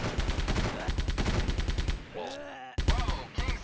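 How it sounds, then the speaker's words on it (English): Rapid bursts of automatic gunfire crackle loudly in a military shooter game, a dense rattling volley that breaks off into radio-like chatter before a few more shots ring out. "we're taking fire"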